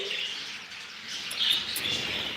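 Birds chirp in a bird seller's aviary, a few brighter calls rising over a steady, soft wash of twittering at moderate distance.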